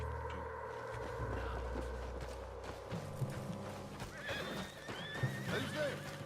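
A horse in Red Dead Redemption 2 whinnies with a long shaky neigh over hoof clops and game ambience, with a voice speaking faintly nearby.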